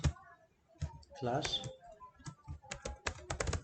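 Code is typed on a computer keyboard in quick, uneven bursts of close key clicks, with a person talking over part of the typing.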